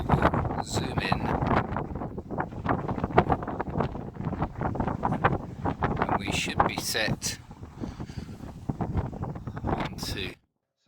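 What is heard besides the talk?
strong wind blowing on phone camera microphone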